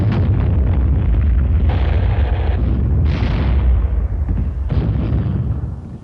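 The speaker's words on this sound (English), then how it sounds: "A new weapon, the recoilless rifle, was used for the first time in combat during the campaign's final days." Loud booming blasts from a recoilless rifle firing in combat on Okinawa in 1945, several heavy reports with rumbling tails following one another, close and alone without talk.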